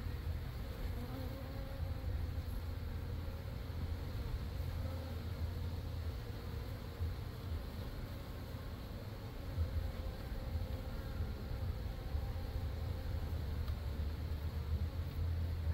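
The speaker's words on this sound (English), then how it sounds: "Here's the biggest part of the bees." Honeybees from a large cut-out colony, grafted into a hive, buzz in a dense continuous drone that stays steady and close throughout.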